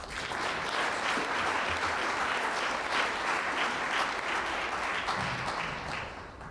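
An audience at a University of Findlay scholarship day celebration applauds President Fell with steady, dense clapping from a full room, sustained throughout and fading slightly at the end, with no voices over it.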